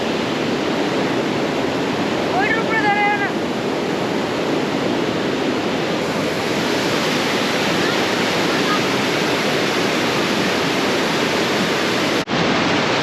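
A fast-flowing river churns in a steady, loud broadband rush near a bridge in the Kalimpong hills, the current roaring continuously with a faint brief chirp early on and a sharp click near the end.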